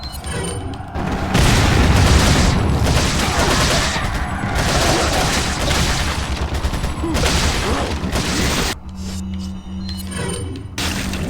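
Loud, dense gunfire and booming blasts from Resident Evil 4 (2005) fill nearly the whole stretch, with a brief drop near the end before the noise resumes.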